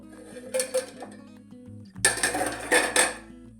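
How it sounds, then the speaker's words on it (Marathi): A lid is lifted off a cooking pot of steamed dal, giving two bursts of metallic clanks and rattles, close and fairly sharp, with a quieter stretch between them and no talking. "आता आपण झाकण काढून घेऊ"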